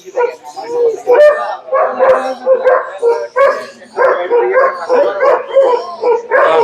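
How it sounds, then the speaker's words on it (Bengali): Foreign-breed dogs, including a German Shepherd, barking at a pet fair in Agargaon, repeated loud barks and yips in quick bursts close by, mixed with crowd voices. "এই জায়গায় সব বিদেশি জাতের কুকুর"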